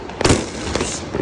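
Diwali firecrackers in Muzaffarnagar burst in quick succession, two sharp close cracks followed by a fainter third pop.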